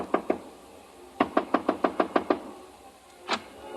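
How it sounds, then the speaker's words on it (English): Knuckles rap on a hotel room door: two quick knocks, a pause, then a firm run of seven more, ending with one lighter tap, all crisp and near with no talking. "I stopped in front of room 300 and knocked."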